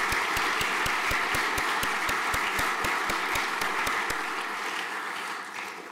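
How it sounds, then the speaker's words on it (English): Audience applause with a sharp, steady beat of claps running through it, loud and continuous from the start, easing off slightly in the last second. "Let's give them a big round of applause"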